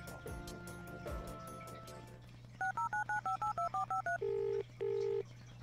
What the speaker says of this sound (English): I'll call him right now.